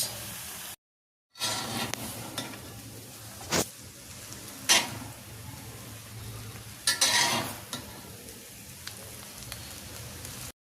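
Egg chicken noodles with tomato sauce, oregano and chili flakes are stirred and fried in a pan, giving a soft continuous sizzle broken by a few sharper scraping clinks of the utensil.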